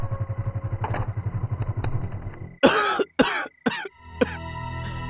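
A woman's harsh coughing, a few loud bursts in quick succession heard close, following a steady rhythmic motor-like idle chugging in the background.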